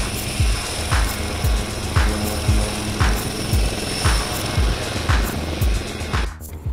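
An HAL Prachand light combat helicopter of the Indian Air Force, its rotor blades beating in a loud, close, steady rhythmic thump over a continuous engine whine that cuts off abruptly at the end.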